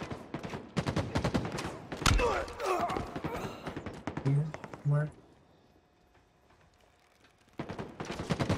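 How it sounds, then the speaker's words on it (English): Rapid gunfire in a video game match, dense volleys of close shots crackling over the first five seconds, then near silence before the firing resumes at the end. "Taking fire!"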